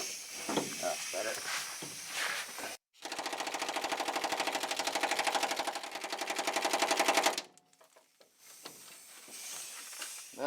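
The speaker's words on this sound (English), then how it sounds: "I'm gonna give that impact wrench a little break there" Impact wrench hammering at a truck hitch bolt on a 1999-2006 GMC/Chevy 2500/1500 pickup, one loud sustained rattling burst of about four and a half seconds, between stretches of quieter shop noise and talk.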